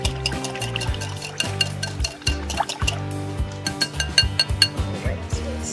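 Liquid poured into a bowl and briefly mixed while cooking cherry-stuffed pork chops, with light pouring and splashing under soft clinks of dishes and stirring, close by.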